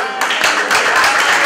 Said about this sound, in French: Sous vos applaudissements pour les femmes ambitieuses, je vous prie.